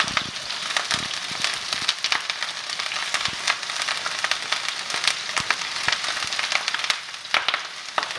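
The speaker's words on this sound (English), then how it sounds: "Now we're going to lay this broccoli right in there." Broccoli sautéing with garlic in a very hot pan, a steady bright sizzle with frequent sharp pops and crackles scattered throughout, close and continuous with no talking.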